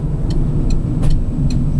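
A new Citroen Berlingo 1.6 LX van running on LPG pulls up, its low engine rumble steady and close, with a few faint, regular ticks like an indicator over it.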